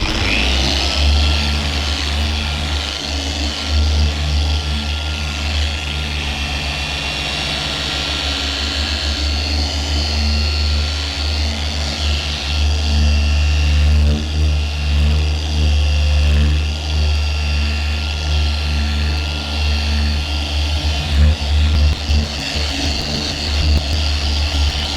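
A dual action polisher runs at speed 3 during car paint polishing, giving a continuous loud whirring drone that holds steady for the full stretch, with slight wavering in intensity and no speech.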